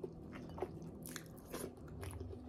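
Close, quiet crunching bites and chewing of boiled vegetables with some crunch still left, served with Filipino pork pata stew, with soft irregular mouth sounds and no talk.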